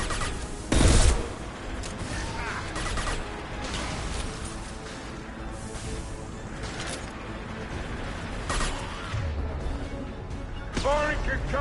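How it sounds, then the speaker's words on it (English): Concussive shot gunfire in Mass Effect 2 Legendary Edition, sharp impacts and bursts of combat fire over a continuous battle bed, with a voice speaking throughout. "Firing concussive shot."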